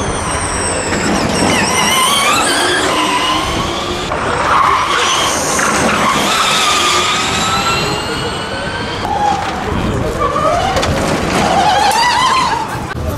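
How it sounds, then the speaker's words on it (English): Formula E race cars, including the Renault entries of Sebastian Buemi and Nico Prost, circle a Paris street circuit during qualifying, electric drivetrains whining loudly and continuously as they sweep past, with rising and falling pitch and occasional tire noise. "We are going to watch these cars go around for the qualies."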